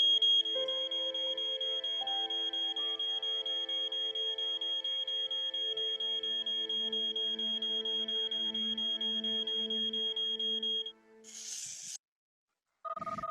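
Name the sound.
smoke alarm sounding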